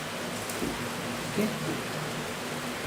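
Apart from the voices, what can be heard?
heavy rain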